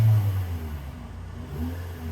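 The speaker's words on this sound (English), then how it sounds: "what I'll do is I'll press on the gas, give it a feel" Engine of a 2016 Toyota Corolla with a lean P0171 MAF fault, revving as the gas pedal is pressed: a steady low, medium-loud hum rising slightly, close by, with no talking.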